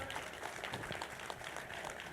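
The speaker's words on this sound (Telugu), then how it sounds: "ప్రకాశం జిల్లా మాస్టర్స్ అందరూ గట్టి క్లాప్స్ కొడదాం" An audience at a spiritual meeting of Prakasam district masters clapping together, a dense, even wash of applause heard faint and distant.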